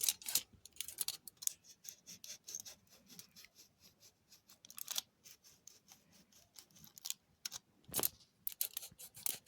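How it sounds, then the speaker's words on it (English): Scissors snipping through aluminum foil pads, a close, irregular run of crisp cuts and rustles with brief pauses between them, with no talking. "If you don't have a hole punch, you can just use scissors instead to cut these pads."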